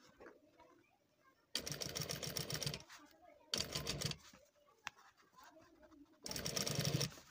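A sewing machine stitches a designer collar in three loud, fast rattling runs of a few seconds each, close up, with quiet handling between the runs and a voice speaking in the pauses.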